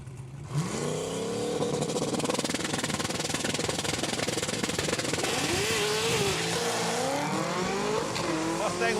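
A Mustang and a 2010 Chevy Camaro launch side by side in a drag race at Saskatchewan International Raceway, engines roaring loud and continuous as revs climb through rising gear sweeps over about nine seconds.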